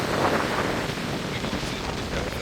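Sea waves washing along the Latvian coast near Lapmežciems, a steady broadband surf wash blended with wind buffeting the microphone, continuous and fairly close with no talk.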